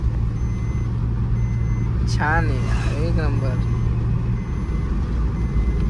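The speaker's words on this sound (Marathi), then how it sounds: "अशा ट्रका येत्या, घाबरायचं नाही." Trucks pass along a mountain ghat road above Wai in Satara district, making a steady, close engine rumble that runs through the whole stretch while people briefly chat over it.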